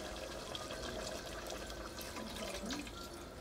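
Water is poured into a cooking pot of browned country chicken curry, a steady low splashing flow running throughout at moderate distance.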